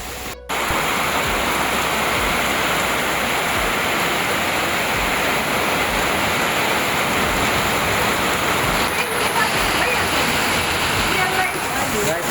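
Heavy rain pours down in a dense, continuous roar that stays loud and even throughout, with people talking faintly beneath it.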